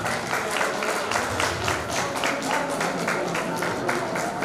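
Audience at a motivational speech clapping steadily, dense and sustained applause filling the hall at close range from start to finish.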